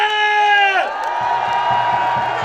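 A crowd cheers and shouts at an outdoor presidential election campaign rally at Chuncheon City Hall. A sustained, wavering tonal call fades after the first second into a dense, steady roar of voices.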